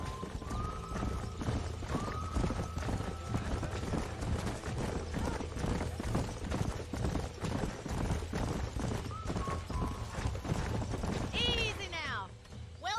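Steady clip-clop of trotting horse hooves in the Red Dead Redemption video game runs throughout, with a horse whinnying near the end and a voice speaking over parts of it.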